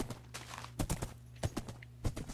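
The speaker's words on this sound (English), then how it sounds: "this horse is pretty fast" Horse hooves galloping in Minecraft, a quick series of close, moderately loud clip-clop thuds in an irregular rhythm over a steady low background hum.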